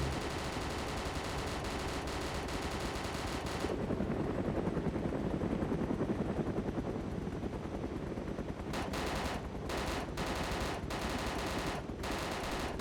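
A helicopter attacks a plane with sustained gunfire in the DayZ video game: a dense, continuous roar of shots gives way to separate rapid bursts near the end.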